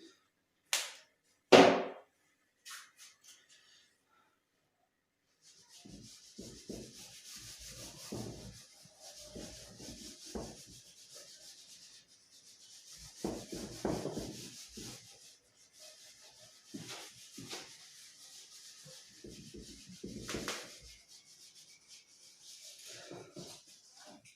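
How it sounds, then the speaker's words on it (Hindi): Writing is rubbed off a board in repeated scrubbing strokes, faint and close, coming in several separate bursts after a few sharp taps at the start. "अब इसे रब कर देते हैं, यानी कि मिटा देते हैं"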